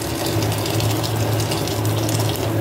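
Steady rushing pour of hot water into a cooking pot of chicken tinola, continuous and close, with a low gurgling hum underneath and no talking.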